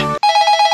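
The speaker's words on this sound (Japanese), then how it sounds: "お、電話電話。" A telephone bell rings in a cartoon, a brief electronic trill of rapid repeated pulses that cuts in sharply after a short gap and carries on loud and clear.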